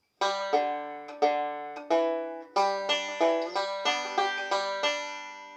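Banjo picked in a bluegrass rolling pattern, a steady run of bright plucked notes, each ringing and decaying before the next, played up close with no voice.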